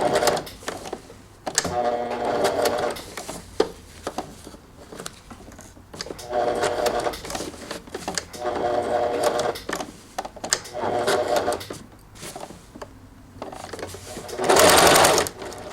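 A sewing machine stitching a curved seam on a bolero's front lining, running in steady mechanical bursts that stop and start several times, with brief pauses in between.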